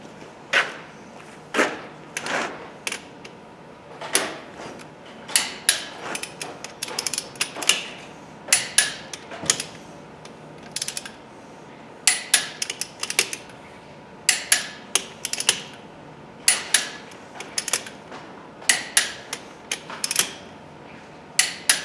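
Bolts are tightened to 90 foot-pounds on a Case IH MFWD tractor axle, a steady run of sharp ratcheting clicks and metallic creaks repeating close by for the full stretch with no talking.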